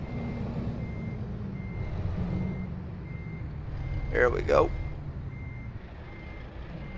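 Reversing beeps from a truck backing up in American Truck Simulator, a steady evenly spaced beeping that runs the whole time over a low engine rumble, with someone briefly talking near the end.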